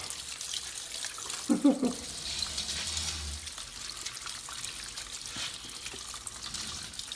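Water splashes and pours steadily out of a 2006–2013 Chevy Impala windshield washer reservoir, a continuous rushing trickle with a brief louder gurgle near the start.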